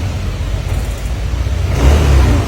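A Yamaha Aerox or Nmax scooter engine runs with a steady rough drone and a slight rise as it revs near the end, up close with no voices.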